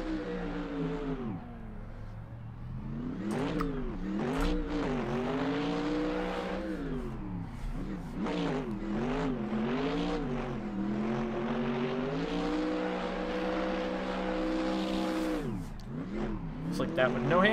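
A C5 Corvette street drift car in the racing game Assetto Corsa revs up and down repeatedly through wavering throttle changes during tandem drifting, with someone talking over the engine.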